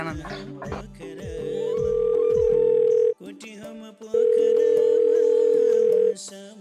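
A telephone dial tone sounds while a call is being placed: two long, steady tones separated by a short break, following a brief jumble of clicks and tones.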